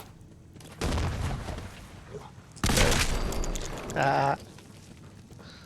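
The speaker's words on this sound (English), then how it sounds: "Maybe I should chunk a grenade over there." Grenade blast in the video game Fallout 4, a loud broadband burst about midway that rings on briefly, set among other loud bursts of gunfire-like game sound with a brief vocal exclamation.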